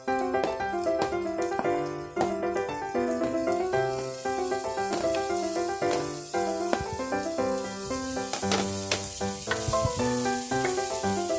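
Steady sizzle of onion frying in a pan hisses throughout, partly masked by music playing over it.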